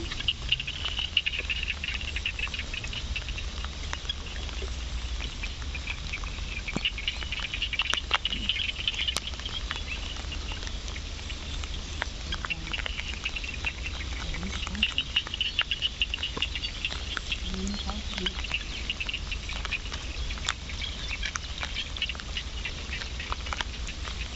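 Steady rain patters continuously, with fine crackling drops and a constant high insect-like hiss running through it.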